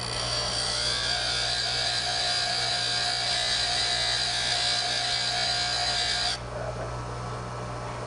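Skew chisel held against a bench grinder wheel on a grinding jig: a steady, loud whining grind with bright high hiss over a low motor hum, continuous for about six seconds before the tone drops as the steel lifts away.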